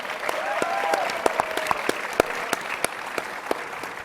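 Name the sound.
audience applause at CPAC conference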